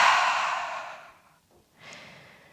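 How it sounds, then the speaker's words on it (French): A person relaxes the shoulders during a guided breathing exercise and exhales slowly through the mouth, one long, close, airy breath fading out, then a softer second breath. "Et à l'expire, relâchez par la bouche."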